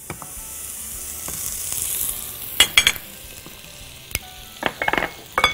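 Butter sizzles in a hot pan, a steady bright hiss with scattered sharp crackles and pops that cluster toward the end, heard close and alone.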